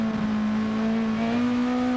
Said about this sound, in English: Sounds more like a second-hand engine, that one, Joyce.